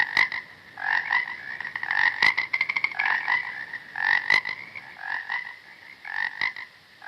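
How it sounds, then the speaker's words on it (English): A frog croaks in a steady series of loud, rapid pulsed calls, repeating closely with short gaps and no other sounds, heard up close in a wildlife setting. "Frog."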